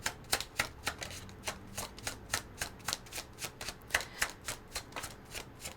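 Tarot cards being shuffled, a close, rapid run of crisp riffling flicks repeating steadily at an even rhythm, with no voice over them.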